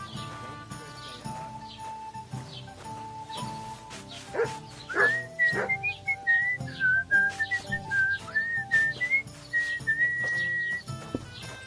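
A dog barks and yips in the medieval video game Kingdom Come Deliverance 2, mixed among a steady musical backdrop with a prominent whistled melody rising over the second half.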